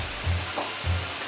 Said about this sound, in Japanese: このくらいまで温めたら、この油をネギと生姜にかけます。